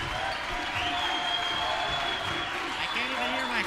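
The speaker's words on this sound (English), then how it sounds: "Crowd getting loud." A packed high school gym at a varsity boys basketball game roars with steady crowd noise and scattered applause, continuous and fairly loud throughout, with faint voices mixed in.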